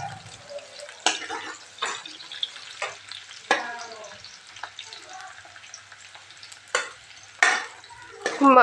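Onions frying in a pan for chibbar chutney make a quiet sizzle, broken by repeated sharp spatula scrapes and taps in an irregular rhythm.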